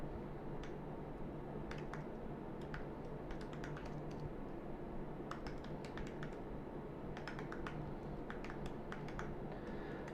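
Steady clicking of a computer keyboard as JavaScript code is typed, irregular bursts of keystrokes close up over a constant low hum, with no talking.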